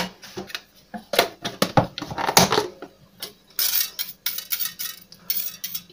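A spoon stirs batter for pollock fish in a bowl, giving rapid, irregular clinks and wet scraping against the bowl, loud and close with short pauses and no speech.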